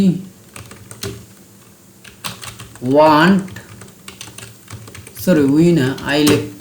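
Computer keyboard typing in quick clicky bursts close up, with someone speaking in between and over the keystrokes.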